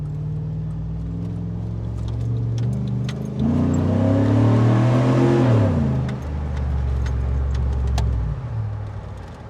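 A Chevy SSR convertible truck's V8 engine rumbles, rises in a throaty surge and then throttles down with a burbling deceleration, heard close up over steady road noise.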